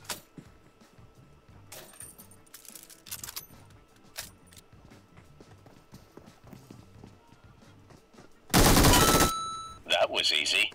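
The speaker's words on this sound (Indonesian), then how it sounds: "Kayaknya nembakin gue dari tadi pakai M4" M4 rifle fire in PUBG, a sharp burst of loud automatic shots near the end followed by a few more bursts, after scattered footsteps and small clatters.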